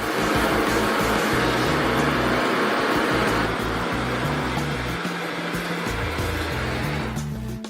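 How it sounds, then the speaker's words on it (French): A torch heats a glass bottle until the glass turns soft and flexible, giving a steady, loud roaring hiss of flame with a constant low hum throughout, easing slightly near the end. "Nous allons maintenant chauffer la bouteille à l'aide d'une torche jusqu'à ce que le verre soit chauffé et devienne souple et flexible."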